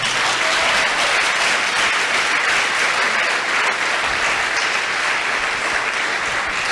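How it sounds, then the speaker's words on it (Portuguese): A large church congregation applauds loudly and steadily during a service, continuous clapping filling the whole stretch with no talking. "Aplauda esse Cristo para você acordar, meu amado."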